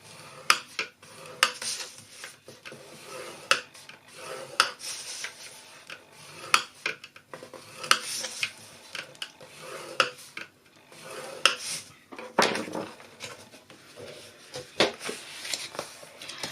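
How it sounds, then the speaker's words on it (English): Cardstock being scored on all four sides with a scoring tool for a box, a series of irregular scraping strokes and light taps, close and fairly quiet, with no talking. "I'm going to score this on all 4 sides at 1 1/8 of an inch"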